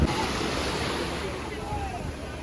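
Sea waves wash onto a beach in Goa, a soft continuous surf hiss with a gentle swell, heard at moderate distance with light wind.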